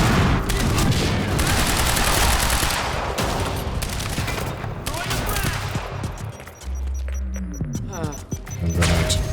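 Dense bursts of automatic gunfire with booming impacts in the shooter video game Quantum Break, loud and continuous for most of the stretch, thinning briefly near the end before rising again.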